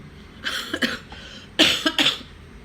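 Two bursts of coughing, each a quick cluster of harsh coughs, fairly close and moderately loud over faint background noise.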